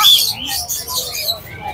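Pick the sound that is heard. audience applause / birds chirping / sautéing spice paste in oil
birds chirping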